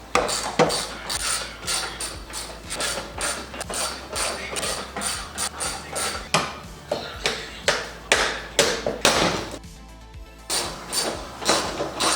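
Fender screws and a 10 mm bolt being removed from a damaged Infiniti G35 coupe, a busy run of close, quick ratcheting clicks and metallic taps with short pauses, no voices.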